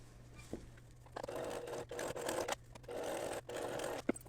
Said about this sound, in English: I'm going to top stitch it down here, and then I'm going to stitch it right along that edge too.